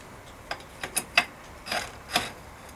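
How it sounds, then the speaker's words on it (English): A tool works the stem bolts at the front of a 1994 Diamond Back Ascent mountain bike, giving a handful of short, crisp metallic ratcheting clicks, spaced irregularly and close up, with no talking. "all I've got to do is just loosen off these bolts at the front"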